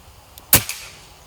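A single sharp crack from a PCP air rifle, the eleventh long-range shot, with a faint click just before and a brief tail after, loud and close.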